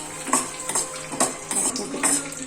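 A spoon scrapes lentils roasting in a pan with a quick, regular stirring rhythm, about five dry scrapes over a faint background sizzle.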